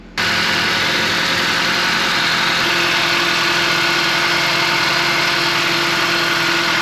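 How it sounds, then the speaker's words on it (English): A 2018 Acura ILX engine turns over and settles into a steady, close idle that holds evenly with no voices present. "let's go ahead and start the car up and check for leaks."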